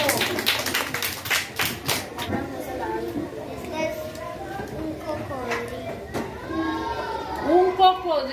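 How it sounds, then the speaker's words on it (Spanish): Children in a primary school classroom clap together in a short burst of applause near the start, followed by young voices speaking over ambient room noise. "Un aplauso."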